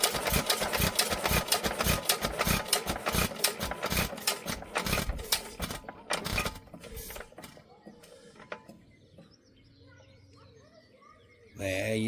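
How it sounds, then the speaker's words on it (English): Small restored engine with a repaired Amanco ignitor and new mica washers runs with rapid, loud firing that slows and fades out, then a short burst returns at the end; birds chirp faintly in the background. "Love that engine."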